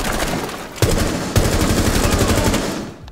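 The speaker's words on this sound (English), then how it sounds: "Wonderful shooting." Rapid automatic gunfire from the tactical shooter game Rainbow Six Siege, sustained bursts of loud close shots with two sharper bangs partway through, fading at the end.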